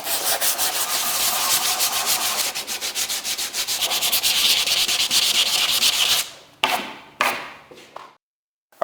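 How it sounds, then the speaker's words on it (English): Wood being hand sanded with the grain, a close, loud run of steady rhythmic rasping strokes that breaks off into a few separate scrapes and then silence. "I'm going to do my best to sand with the grain"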